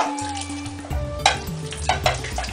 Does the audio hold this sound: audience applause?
no